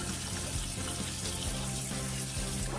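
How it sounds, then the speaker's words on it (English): Cold tap water runs steadily into a pot of cooked potatoes, a loud, continuous close splashing stream with faint knocks underneath and no talking. "So now, I'm just gonna add cold water."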